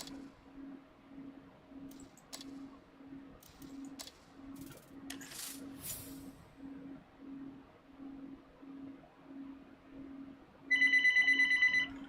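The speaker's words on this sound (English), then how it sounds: "Hold on, I got a phone call." A phone ringing with an incoming call: a repeating, evenly pulsed ring tone runs throughout, steady and moderately loud, ending in a brighter burst of electronic tones near the end.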